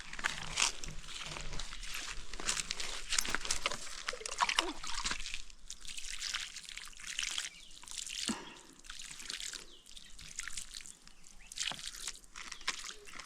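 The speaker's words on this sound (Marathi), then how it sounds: "तुझ्या चांगल्या हाताने माते हे घाल पाणी" Water is poured at the base of a tree during a village Holi ritual, a soft, intermittent trickle and splash with faint crinkling, fairly quiet and close, with no talk over it.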